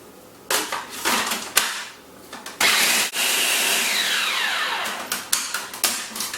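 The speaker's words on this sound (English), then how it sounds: "Now I'm going to grind all these ingredients down until it is crumbly" A food processor grinds ingredients with Hunza raisins until crumbly, for raw vegan carob cream bars. Several short whirring pulses come first, then one long steady grinding run, loud and close, with no talking.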